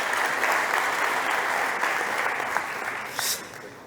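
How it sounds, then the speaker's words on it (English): An audience at a startup competition stage applauds a presenter with steady, dense clapping that continues for several seconds, then thins out and fades near the end. "Big applause for Luis, please."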